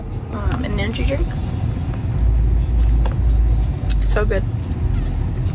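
Inside a moving car, a loud steady low road and engine rumble fills the cabin while a person talks briefly over it.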